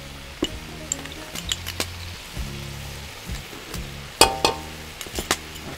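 Tomato frying in a pan for Metaxa sauce gives a soft steady sizzle with scattered clinks and stirring scrapes of utensils against the pan, close and without talk.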